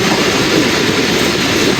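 Railcar running from Lahore to Rawalpindi near Rawalpindi station, a loud, steady rumble of wheels and carriage close by for under two seconds, with no clear squeal and no voices.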